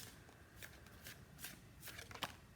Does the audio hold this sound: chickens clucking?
no